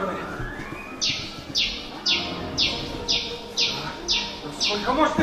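Birdsong played as a sound effect in a theatre play set in a jungle: a string of about seven bright, evenly spaced chirps over a low murmur of room noise.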